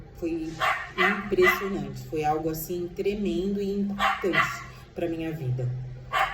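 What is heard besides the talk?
dog barking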